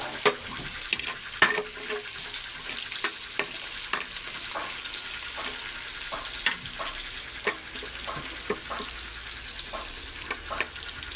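Garlic and onion fry in a pan for sitpan, giving a steady crackling sizzle with frequent sharp ticks and scrapes of stirring throughout.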